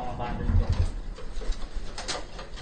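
Pigeons coo in a pigeon loft, soft low throaty burbles heard close by, mixed with rustling and background talk.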